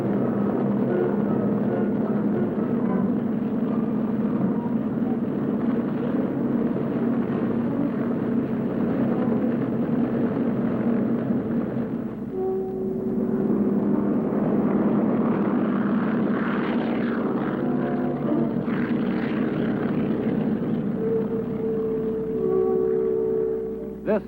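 Military helicopters airlift troops in the Vietnam War, a steady loud rotor and engine drone running continuously throughout with a brief dip in the middle, no voices.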